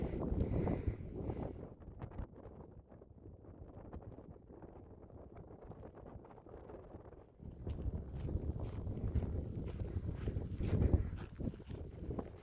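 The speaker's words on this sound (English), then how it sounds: "It's a little windy out here back on trail." Wind buffeting the microphone on a hiking trail along the Continental Divide near Helena, Montana: gusty rumbling that eases in the middle and then surges back strongly, with no voices.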